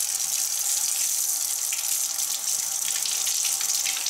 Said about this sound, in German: Jetzt zerlegen wir den noch einmal, lassen ihn hier mit Wasser durchlaufen.